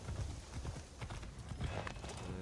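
A horse gallops in the video game Assassin's Creed Shadows, with rhythmic clip-clop hoofbeats pounding steadily and close over quiet game ambience.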